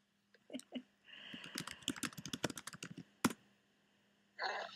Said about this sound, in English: I could hear you typing.